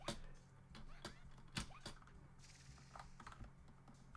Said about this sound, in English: it's a membrane keyboard, but it's just so obnoxiously loud